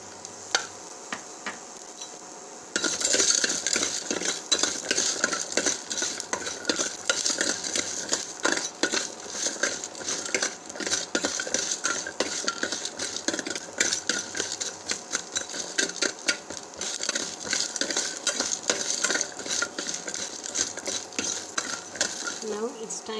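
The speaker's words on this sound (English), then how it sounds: "Now I am adding peppercorns." A spoon scrapes and stirs peppercorns in a frying pan with coriander seeds and garlic, a steady rapid clatter of metal on pan over a faint sizzle, continuing loud and close after a quieter opening.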